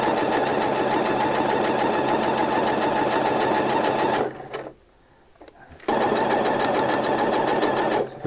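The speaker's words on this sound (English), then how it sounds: "Go all the way down, and then back stitch at the end as well." A sewing machine runs steadily at close range while stitching a pocket seam onto the front of drawstring shorts, with a brief pause midway before the motor whirs on again.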